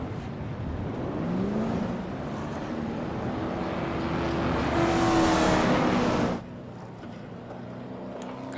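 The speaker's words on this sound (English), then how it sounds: "Got a lot of cars now coming into pit road now after this caution." Late model race cars rolling onto pit road at South Boston under caution, a steady broad engine roar that swells toward the middle as cars pass close, then drops off abruptly to a quieter rumble.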